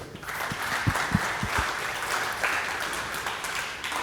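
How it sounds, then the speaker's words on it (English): A crowd claps steadily in a room, a dense patter of many hands with a few louder claps near the start, continuing throughout. "Please give him a round of applause."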